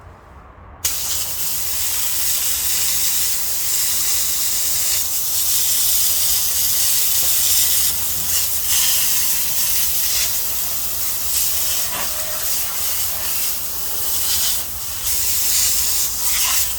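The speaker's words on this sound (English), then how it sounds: "We're going to go after this one with nothing but a plain old garden hose." A plain garden hose sprays water for cleaning, producing a continuous broad hissing rush that starts abruptly and holds steady and close for the whole stretch.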